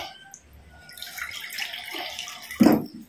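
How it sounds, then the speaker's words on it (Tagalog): Water poured into a pan of cooking shrimp paste, a soft trickling splash that builds and ends in a brief louder gush near the end, close and alone without talk. "I-add natin ng konting tubig mga kalis."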